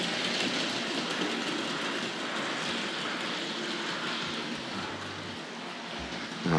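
A Hornby model train pulling small freight wagons runs steadily around its track, a continuous close rumbling whir with faint rhythmic clicking over the rail joints.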